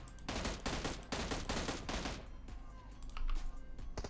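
Rapid bursts of automatic gunfire from the video game PUBG Mobile rattle in quick succession and then thin into scattered shots, loud and close, with a faint voice in the background.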